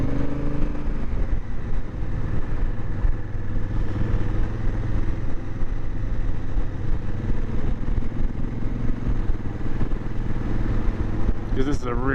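A 2016 Honda Africa Twin CRF1000 DCT motorcycle riding along a moorland road, its engine a steady continuous drone mixed with wind rush throughout.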